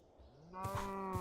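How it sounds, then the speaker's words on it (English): A cow moos in the video game RLCraft: one drawn-out, tonal low call that swells midway and holds steady to the end, fairly close and alone with no talking. "Cows."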